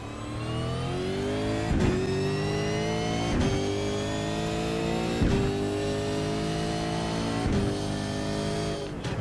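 A V8 race car engine at Zolder in a racing video game holds a loud, steady tonal roar, with sharp gear-shift blips about every two seconds. It plays alone with no talk.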